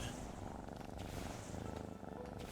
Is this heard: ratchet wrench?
no